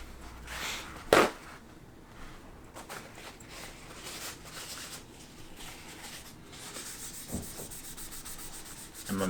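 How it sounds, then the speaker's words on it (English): A paper towel rubs F1 oil into a guitar fretboard during a beginner setup of an Amazon guitar, giving soft, steady scrubbing strokes close by with one sharper scrape early on. "I'm just gonna take a paper towel."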